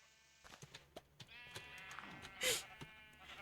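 Sheep on a Minecraft farm bleat in short repeated calls at close range, mixed with soft clicks and a brief louder burst partway through.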